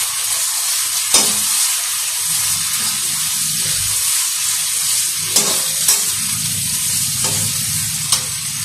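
Tomatoes and onions frying in a home kitchen pan, a steady sizzle with occasional scrapes and clinks of a spoon stirring, fairly loud and close with no talk.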